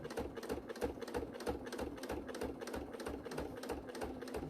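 A sewing machine fitted with a walking foot stitches fabric for a bag in a steady, rapid mechanical chatter, close and even throughout, with no talk over it.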